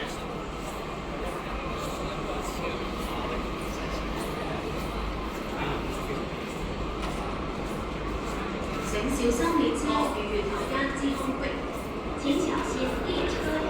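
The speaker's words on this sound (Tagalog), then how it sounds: "So, train is here." An MTR subway train pulls into Quarry Bay station with a steady low rumble and rising rail screech, continuous and fairly close, while people talk over it.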